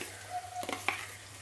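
Finely chopped onion frying in a pan for pav bhaji, a soft steady sizzle with a few stirring scrapes, close and quiet with no talking.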